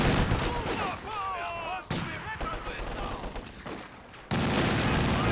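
Machine gun fire from a building in the strategy game Company of Heroes 2, sounding as dense, loud bursts and rattling volleys mixed with other battle noise, with a caster's voice briefly over it.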